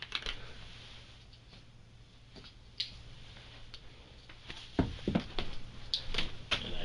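A 12-gauge shotgun shell for a Mossberg 500 pump shotgun drops and clatters near the mic, among faint scattered ticks and small clicks, with a cluster of sharper knocks toward the end.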